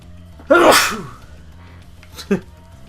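A single loud sneeze with a sharp onset and a trailing breathy tail, followed a moment later by a smaller, softer second sneeze.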